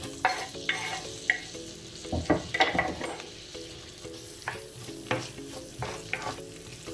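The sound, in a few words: onions frying in a pan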